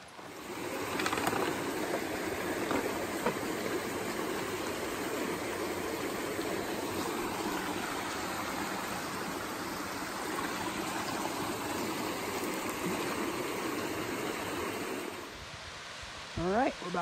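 Ward Creek, a mountain stream on the Tahoe Rim Trail, flows at a steady, close rush that holds loud and unbroken for about fifteen seconds, then drops off sharply near the end.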